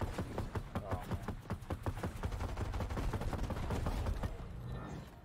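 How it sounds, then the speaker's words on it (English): Rapid bursts of gunfire in a Fortnite match, sharp repeated shots stacking into dense volleys over a steady game backdrop, loud and close throughout. "There's someone shooting at us."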